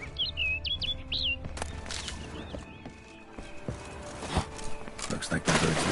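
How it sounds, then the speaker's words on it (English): Bright chirps and tweets from a bird in the Witcher 3 video game, heard in Toussaint over ambient game sounds, footsteps and occasional clip-clop of a horse. "Looks like the bird's leading me somewhere."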